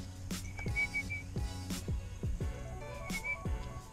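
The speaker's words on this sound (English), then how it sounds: "I'm not pulling on the leash at all. I'm just whistling at him." Short, repeated whistles from a person calling a pet ferret outdoors on a gravel road, clear high chirps in quick bursts at close range over faint background noise, no speech.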